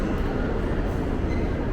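A New York subway train runs in a steady, loud rumble that fills the short stretch without a break. No distinct wheel squeals or clicks stand out.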